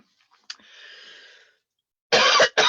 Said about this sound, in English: Coughing has already started.